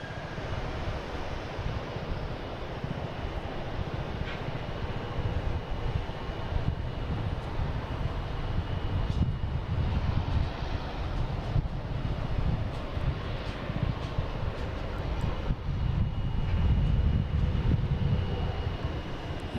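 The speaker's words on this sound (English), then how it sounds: "we got an A321 heading to Amsterdam." A JetBlue Airbus A321 airliner departing Boston Logan for Amsterdam gives off a continuous engine rumble that swells slightly toward the end, with wind buffeting the microphone and no talking.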